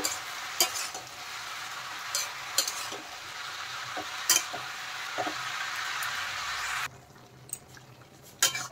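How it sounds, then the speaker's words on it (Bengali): Bottle gourd being stirred with ginger paste in a frying pan: a steady close sizzle broken by intermittent spatula scrapes and clinks against the pan, growing quieter near the end. "আদা বাটা দিয়ে দেওয়ার পরে আর একটু নেড়ে চেড়ে ভালোভাবে লাউয়ের সাথে আদাটা মিশিয়ে দেব।"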